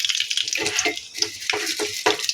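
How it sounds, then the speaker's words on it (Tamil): Mustard seeds splutter and pop in hot oil in a kadai, a dense run of sharp crackling bursts close by with no talking. "இப்போ கடாய் வச்சு ஆயில் விட்டுட்டாங்க இப்போ கடுகு போட்டுக்குவோம்"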